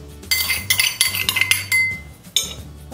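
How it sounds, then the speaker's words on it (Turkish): A spoon clinks and scrapes against a mixing bowl while sugared cream batter for individual orange cheesecakes is scooped out, giving repeated close, bright metallic scrapes and taps with short pauses. "Bir kaşık yardımıyla çıkaralım."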